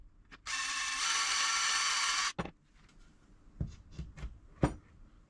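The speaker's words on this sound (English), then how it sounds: "So I might just very carefully hand drill those out a little bit more." A hand drill deepening dowel holes in scrap wood for a bookcase: a sustained grinding, ratcheting burst of about two seconds, followed by a few scattered clicks and knocks from handling the workpiece, close and moderately loud.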